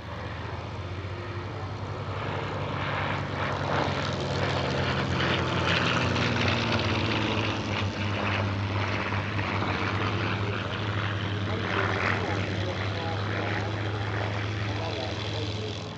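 A vintage warbird propeller aircraft displays at an airshow in 2021, its engine holding a steady loud droning roar with a deep hum throughout, under a spoken voice.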